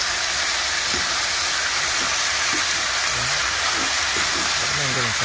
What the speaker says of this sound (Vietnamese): Săn là bây giờ mình đổ cái măng này vô mình xào chung luôn.